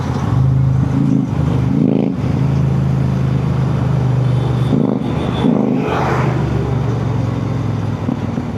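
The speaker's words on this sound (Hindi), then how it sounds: "That's a Super Meteor 650, but very nicely modified. Love that bike." A modified Royal Enfield Super Meteor 650 motorcycle rolls past on an open road, its low engine note throbbing steadily, rising briefly as it revs, then fading with wind rush.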